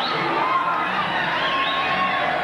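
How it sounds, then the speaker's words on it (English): An excited arena crowd cheers at a 1988 kickboxing match at the Palladium, with a dense, sustained roar of voices holding steady throughout. "Excited crowd here at the Palladium as Alexio, the heavyweight champion,"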